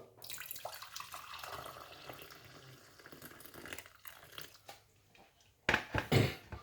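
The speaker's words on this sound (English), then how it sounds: "Now, I'm going to fill it up with some hot water." Hot water pours quietly into a container for a lime cold-and-flu remedy, a soft trickling flow that breaks into a few louder splashing bursts near the end.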